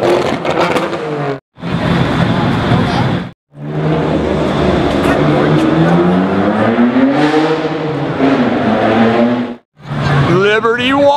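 Liberty Walk Lamborghini Aventador at a car meet, its engine revving loudly and close in long surging bursts with brief gaps, rising and falling in pitch, while excited voices talk over it.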